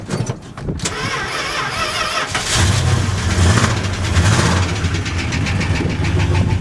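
A 1974 Dodge engine cold-starting in freezing weather: the starter cranks, then the engine catches and revs, running loud and rough close by.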